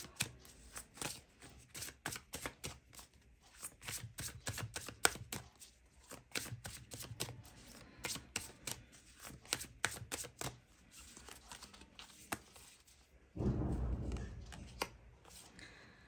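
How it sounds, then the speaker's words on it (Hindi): Tarot cards shuffled by hand, a rapid series of crisp close riffles and flicks, then a card drawn with a short rustle near the end; quiet, with no clear talk. "एक कार्ड मैं यहाँ से ले रही हूँ आपके लिए"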